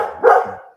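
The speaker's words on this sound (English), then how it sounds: "I've got dogs barking." A dog's single bark rings out nearby in a suburban setting, a short sharp yelp that fades quickly with no talking over it.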